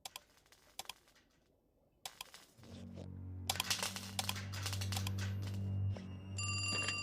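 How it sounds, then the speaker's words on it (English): A telephone rings in a cartoon scene, a repeated electronic bell tone rising over a sustained low hum after quieter clicks and taps at the start. "The phone will ring, and there'll be no one there."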